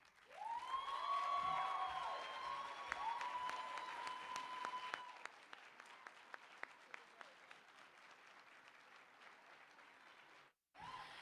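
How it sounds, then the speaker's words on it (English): An audience applauds performers at a live show, dense clapping with a few cheers and whoops at first, then thinning into scattered, fading claps before a brief pause and a short final burst. "Let's give another round of applause for all our performers."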